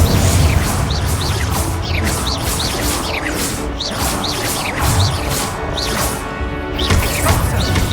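Spell-casting effects from Hogwarts Legacy, the Expelliarmus disarming spell among them, come as repeated whooshing bursts and sharp crashes over a dense, steady game soundscape. They are loud and continuous throughout.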